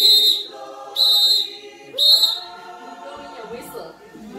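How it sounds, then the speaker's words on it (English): A whistle is blown in three sharp, evenly spaced shrill blasts about a second apart, loud and close, followed by a fainter short toot, with a voice speaking between them. "Why are we blowing a whistle"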